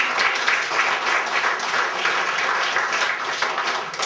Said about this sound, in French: Elle n'est pas là aujourd'hui, mais on peut l'applaudir.